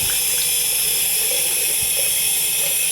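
A bathroom tap runs steadily, giving a continuous loud hiss of flowing water as grime is washed off the tap parts, with faint clinks beneath the stream.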